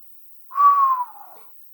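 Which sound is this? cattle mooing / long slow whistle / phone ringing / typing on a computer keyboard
long slow whistle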